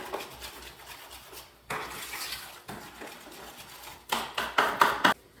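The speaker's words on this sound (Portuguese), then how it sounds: "aqui eu já estou sovando a massa" Bread dough is kneaded by hand on a kitchen counter, giving irregular soft thumps, slaps and rubbing noises in bursts, growing louder and more rhythmic toward the end, with no talking over it.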